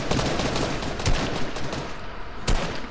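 Gunfire rattles in a squad-based shooter video game as bursts of close, loud shots. Two sharper cracks stand out, and there is no talk.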